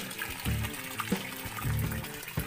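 Water pours steadily from a filter into a koi fish pond on a Philippine koi farm, a continuous close splashing wash heard under tonal background music.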